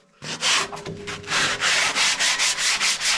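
Rough back-and-forth sanding on the rusty metal of an old wood stove being rebuilt, about a dozen loud, close, rhythmic scraping strokes with no talking.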